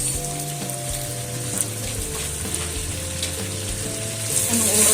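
Rice noodles for pansit bihon hit a hot pan and fry with a steady, dense sizzle close by, a low hum running underneath and the frying swelling slightly louder at the end.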